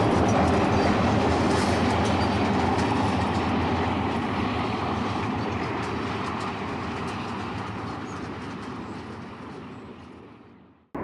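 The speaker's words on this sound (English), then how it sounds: "the Shelter Island train 212 heads towards Greenport" Shelter Island passenger train 212, hauled by an ALCo locomotive on Long Island, rolls past close and loud with a steady rumble and wheel clatter, fading slightly before cutting off.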